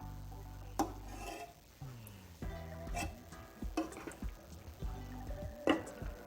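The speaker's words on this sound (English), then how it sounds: "I will take it out in the serving bowl" Prawn biryani being served into a serving bowl: quiet scrapes and soft clinks of a spoon against the pot and bowl, spaced irregularly with faint rustling of rice between them.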